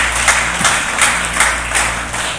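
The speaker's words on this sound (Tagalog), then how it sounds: "Sige po, isang malakas sa palakpak po sa ating Panginoon." Congregation clapping at a Sunday worship service, a steady wash of many hands with periodic louder swells, filling the room without any speech on top.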